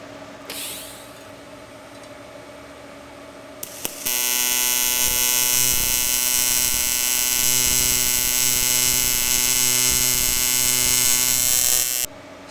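An Everlast PowerTIG 255EXT TIG welder holds an arc on advanced square wave, giving a loud, steady electric buzz with a harsh hiss that starts suddenly after a quieter hum and runs unbroken for about eight seconds before stopping.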